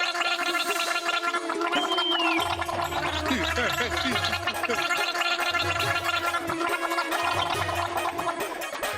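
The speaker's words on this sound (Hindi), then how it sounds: "सुबह नमक के गुनगुने पानी से गरारे करना" Someone gargles with warm salt water, a bubbling, throaty rattle that pulses in bursts over background music, with voices also present.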